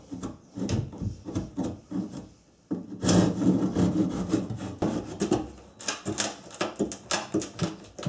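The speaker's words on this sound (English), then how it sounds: "finish up this cut with my handsaw" A handsaw rasps through plywood in steady back-and-forth strokes, close and fairly loud, with a short pause before a denser burst of quicker cutting strokes.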